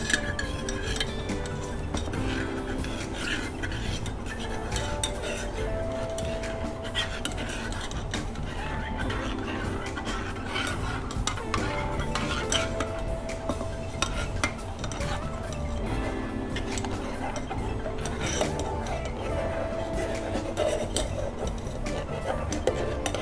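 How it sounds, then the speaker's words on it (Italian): Caustic lye solution is mixed for beer soap, with steady clinking and scraping of a utensil against a container while stirring, a continuous busy clatter at moderate level with faint background noise throughout. "Indosso la mia maschera e preparo la soluzione caustica."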